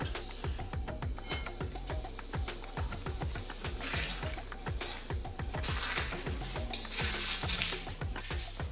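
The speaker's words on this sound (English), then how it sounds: "put the lid on and let it boil" Gravy thickened with corn flour bubbles in a lidded pot, giving a busy, continuous simmer of rapid pops and clatters close by, with brief louder hissing bursts.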